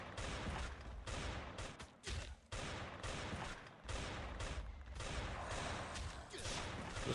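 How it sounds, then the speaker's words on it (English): The Equalizer gun in the mobile game Last Day on Earth fires in rapid, dense bursts, loud and harsh, with short gaps between volleys. "This Equalizer does great damage, but it misses so many shots"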